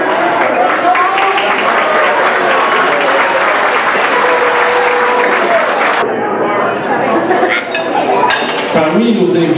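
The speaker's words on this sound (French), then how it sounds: "on va applaudir très fort pour nos mariés s'embrassent" Wedding guests at a 1993 celebration applaud the newlyweds' kiss with a dense, sustained wash of clapping and crowd noise, joined by clinking dishes and cutlery and a few voices over the top.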